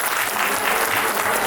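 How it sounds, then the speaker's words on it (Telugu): An audience at a company anniversary celebration claps loudly in a continuous, dense roar of applause, with faint voices mixed underneath. "గట్టిగా చప్పట్లు కొట్టాలి"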